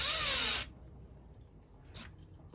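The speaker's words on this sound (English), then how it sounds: "what I can do, if my screwdriver behaves, is hold this tight and take a screw" A power screwdriver drives a screw during an RV short repair: a loud, high whirring burst that ramps up and cuts off abruptly after about half a second, followed by quiet handling and a brief faint click.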